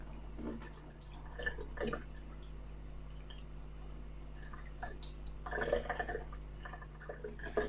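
Water trickles and drips over the roots of a cactus during washing before repotting, faint and close, with intermittent splashy bursts over a low steady hum.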